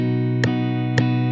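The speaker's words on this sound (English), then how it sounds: "If the duration of each strum was quarter notes, or one beat, it would sound like this." Guitar strummed in quarter notes, one beat per strum: two crisp chord hits over a continuous ringing sustain, close and alone.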